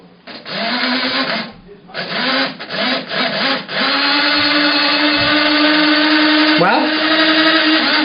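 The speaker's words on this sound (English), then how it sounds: "Well, the motor works." The electric motor of a Hornby model railway turntable, bench-powered from a Hornby controller, whirs steadily and loudly, stuttering and changing pitch in the first few seconds before settling into a constant hum.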